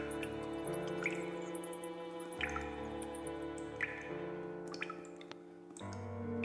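A water tap drips in the hidden-object game House of 1000 Doors, single plinking drops falling irregularly over a layered ambient music bed with no voices.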